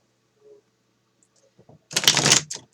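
Gummy Bear Tarot cards are handled with a few faint taps, then shuffled in one brisk, rustling burst of about half a second, close up and without speech.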